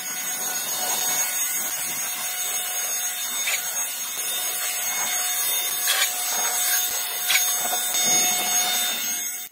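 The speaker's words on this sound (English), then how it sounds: "Use the blower to blow away the remaining dust and dirt." A Ryobi 18V ONE+ cordless jet blower rated at 200 CFM clears dust and dirt from synthetic grass in a small backyard, a loud continuous airy whoosh close by that swells and dips slightly as it moves.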